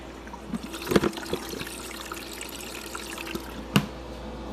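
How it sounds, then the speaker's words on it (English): Igloo portable ice maker running on a Jackery 500 power station as its pump starts pushing water through, a faint steady trickle with a couple of brief louder gurgles near the start and end. "You can see it's starting to push the water through"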